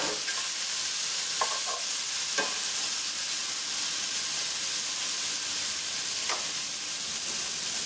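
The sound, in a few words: stirring hoisin sauce into pineapple rice in pan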